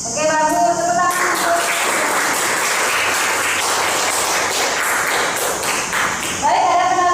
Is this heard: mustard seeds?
no